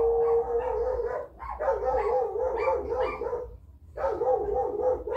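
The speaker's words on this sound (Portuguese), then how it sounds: "O cachorro começou a latir" A dog barks nearby in drawn-out, howling bursts, loud and close, with a short pause between volleys and no one talking.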